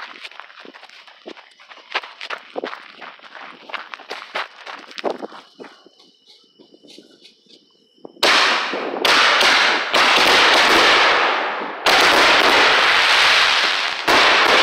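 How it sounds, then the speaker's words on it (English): A 10-shot rack of 60-gram consumer firework shells set off outdoors: scattered crackles and pops from the fuse first, then a series of loud, booming launches and bursts in quick succession. "Amber and Lisa's first 10-shot rack, all 60 grammers"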